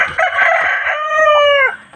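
A rooster crows once, loud and close, with a long drawn-out call that rises into a sustained tonal note before cutting off, with no talking.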